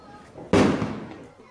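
A single sharp firecracker blast goes off nearby during Diwali celebrations, loud and sudden, with its echo fading over a second.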